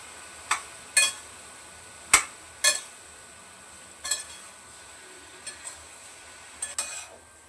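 Soybeans being stir-fried in a pan over a high flame give a faint background sizzle. Sharp, separate clinks and scrapes of a spatula against the pan break in every second or so, close by and with no talk.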